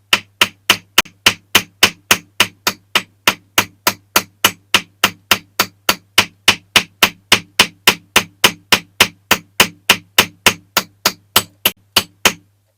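A hammer peens a wider front axle on a diecast Dinky Toys 236 Connaught race car, striking about forty sharp, evenly spaced metallic taps over a steady background hum, close and alone.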